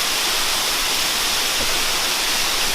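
Krushuna waterfall roars as a steady, dense rush of falling water, loud and unbroken from start to finish with no voices.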